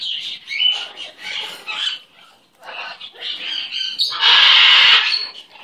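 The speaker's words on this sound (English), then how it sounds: "what a good bird." An excited pet bird squawks and chatters in repeated bursts, loud and close, ending with a long harsh screech.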